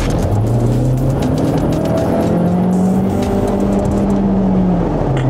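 VW Tiguan plug-in hybrid with a 1.5 engine driving under regeneration, a loud continuous road and tire roar with a rising and falling whine inside the cabin.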